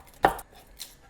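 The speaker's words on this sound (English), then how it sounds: "So the garlic has been peeled and I'm just thinly slicing it basically" A knife cuts thinly through peeled garlic cloves on a board with one crisp, close chop, then a fainter second cut in an otherwise quiet kitchen.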